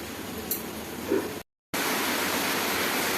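Flour and semolina snack frying on a low flame, a soft, even sizzle close by with a faint clink, a brief cut to silence, then the steady sizzle again, with no talk.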